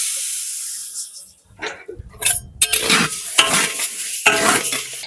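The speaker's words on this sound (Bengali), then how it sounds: "সুন্দর করে মুগ ডাল বানিয়ে নেবো, তাই কড়াই গরম হয়ে গেছে" Mung dal frying in a hot wok in a village kitchen, stirred with scraping strokes that give bursts of hiss and sizzle, fairly close and loud with no talk over it.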